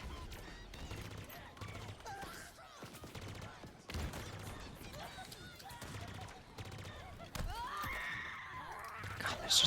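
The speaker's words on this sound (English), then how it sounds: "It is a good sounding shotgun" A shotgun booms repeatedly in Halo Infinite multiplayer, several sharp punchy blasts spaced apart amid chaotic firefight effects, with a player talking faintly.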